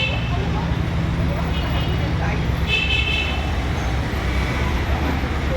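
Heavy traffic on a crowded shopping street, Ahmed Maher Street in Tanta, a dense constant roar of engines with scattered horn toots and background voices throughout.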